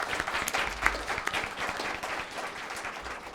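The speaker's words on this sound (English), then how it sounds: "can we have a round of applause for our speakers?" Sustained audience applause at a housing law panel, a dense wash of many hands clapping steadily for the speakers at moderate volume, with no talk over it.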